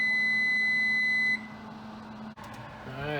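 A steady electronic beep from an oven timer rings out while a pumpkin pie bakes, holding for about a second before cutting off, leaving quiet kitchen noise and a brief clatter.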